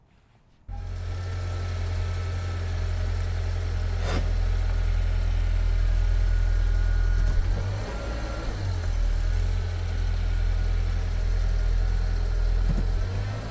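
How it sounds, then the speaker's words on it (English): A Subaru engine turns over and settles into a steady, loud idle with a deep low rumble that continues throughout, with slight shifts in pitch near the end. "I'm gonna start the car and drive a little bit"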